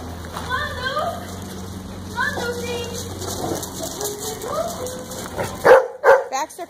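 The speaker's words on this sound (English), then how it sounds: "You don't have to bark at them just because they're playing" A dog barks indoors in a few short sharp bursts while other dogs play nearby, and a person's voice runs through the scene.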